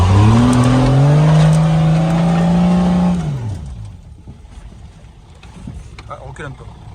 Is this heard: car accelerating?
yes